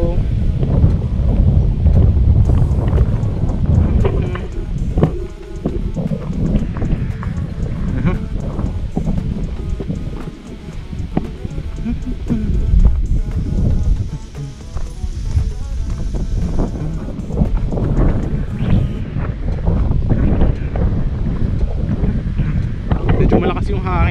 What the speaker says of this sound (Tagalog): Malakas yung hangin dito guys.